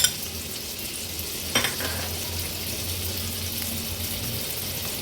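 Finely chopped small onion dropped into a tablespoon of hot oil, giving a steady, close hiss of frying with a couple of soft clinks near the start and no talking.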